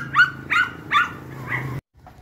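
A dog at Puerto Galera barks four times in quick, evenly spaced succession, loud and close, then falls silent; one faint yelp follows after the pause.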